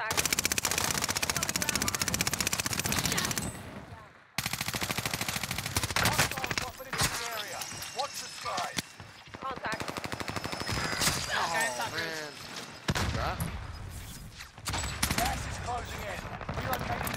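Sustained automatic gunfire in Warzone on Rebirth Island, loud rapid bursts and overlapping shots almost without pause, with a short break before the firing resumes, alongside game effects and occasional voices.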